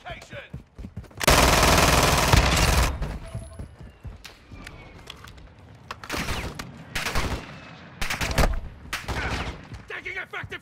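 Rapid video-game gunfire in a multiplayer shooter, a long sustained loud burst followed by several shorter volleys, with players talking over radio-style chatter between them.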